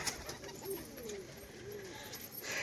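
Soft, low coos from a male kaldum pigeon drift through a quiet background, faint and somewhat distant.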